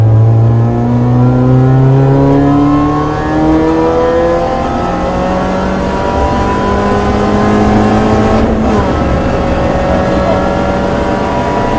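A Mini Challenge Clubsport race car accelerates hard on track at Cadwell Park, its loud engine note climbing steadily through the gears in close onboard sound with no talking.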